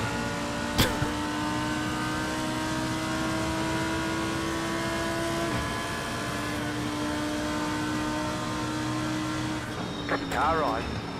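Race car engines in the iRacing sim at Road America hold a steady high drone with gear shifts, and another car passes near the end, while a driver talks over it.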